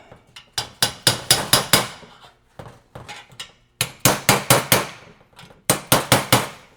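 Hammer tapping the edge of a stainless steel heat shield flat for a turbo setup, sharp ringing metallic strikes in quick clusters of four to six, loud and close with short pauses between groups.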